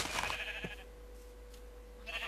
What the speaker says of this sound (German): Das Schaf kommt nicht mit, das andere rennt wieder weg.